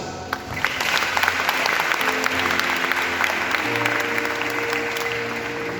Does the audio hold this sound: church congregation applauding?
yes